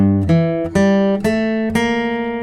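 A guitar plays the closing phrase of the Westworld theme with alternate picking: four clear, ringing plucked notes in an even rhythm, close and loud, each sustaining into the next, with no talking.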